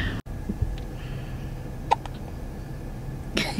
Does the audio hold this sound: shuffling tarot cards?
no